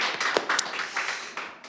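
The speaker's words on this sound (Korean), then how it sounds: "서로 환영하는 박수 치시겠습니다." A church congregation at a campus worship service clapping in welcome, a brief burst of scattered close handclaps from a small group, uneven and fading quickly.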